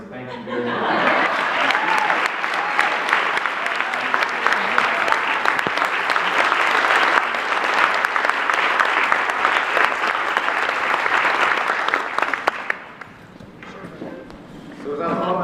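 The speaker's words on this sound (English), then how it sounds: "you deserve a round of applause" Graduation ceremony audience gives sustained loud applause for about twelve seconds, dense clapping with a few cheers, then fading to quiet before a short renewed burst.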